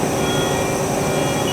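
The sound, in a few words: Haas ST-10 CNC lathe running, spindle changing speed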